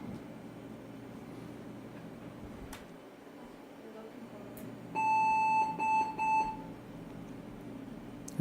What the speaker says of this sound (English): That's the beep of joy.